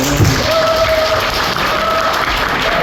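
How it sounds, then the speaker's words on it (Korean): Applause at a wedding service in a Gwangju wedding hall rings out steadily from a gathered congregation, dense and continuous clapping filling the room for a few seconds. "박수."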